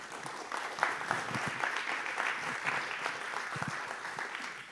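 Applause from an audience at a live talk event at the Futurapolis Planète 2024 forum, a steady patter of many hands clapping at moderate level for several seconds, with no one speaking.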